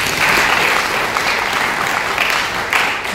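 A church congregation claps during a sermon, a steady, full burst of applause from a crowd that stays even for a few seconds.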